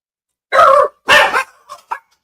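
Dogs barking indoors, two loud close barks followed by a couple of quieter shorter yips, alone with no talking.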